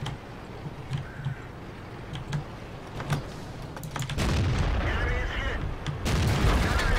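An SU-152 in World of Tanks fires HEAT rounds, heard as heavy booming shots amid battle noise. Impacts and rumble build louder toward the end, and voices talk faintly under it.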